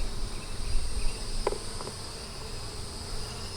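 Honey bees buzz steadily around an open hive during an inspection, a continuous insect drone with a few brief nearby clicks and handling knocks, no talking.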